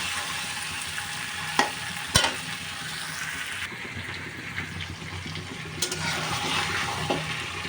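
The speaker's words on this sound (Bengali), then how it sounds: "একদম সুন্দর করে বুনে নিতে হবে মাছগুলো।" Pieces of shol (snakehead) fish fry in a pan for a Barishal-style bhuna, giving a steady close sizzle broken by a few sharp spatula knocks and scraping stirs.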